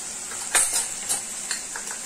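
A spoon scrapes and stirs garam masala, coriander powder and turmeric into onion and tomato frying in a pan, several close stirring strokes over a soft steady sizzle.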